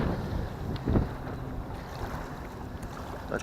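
Gusty wind blows outdoors on a lakeshore during bass fishing, buffeting the microphone in low rumbling surges with one stronger gust near the start and no talking.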